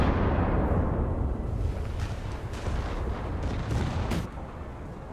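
Ship turret artillery in a naval battle video game, a steady heavy rumble of distant cannon fire with a few faint sharper reports over a continuous low roar.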